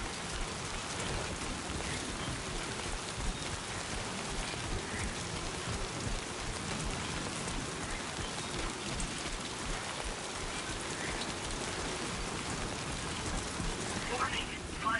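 Steady rain pours down in Death Stranding 2, a continuous, even hiss that fills the whole clip, with faint voices murmuring underneath.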